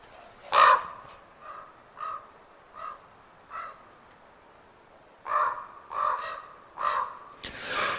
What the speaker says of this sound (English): I guess it was that same raven which returned at essentially minute intervals